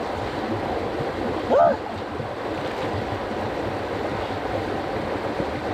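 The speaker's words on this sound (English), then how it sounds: "I love running water from the river." River water runs steadily in a village setting, a constant rushing wash with a brief voice-like sound briefly rising over it.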